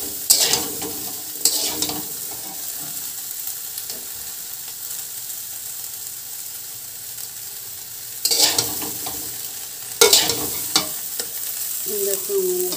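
Paneer curry ingredients frying and being stirred in a pan, with a steady sizzle throughout and sharp scraping bursts of stirring near the start and again toward the end.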